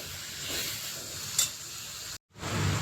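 Chicken pepper fry stirred in a pan with its masalas, a steady close sizzle and hiss with scraping of the spoon, broken by a brief silent gap before the frying noise returns.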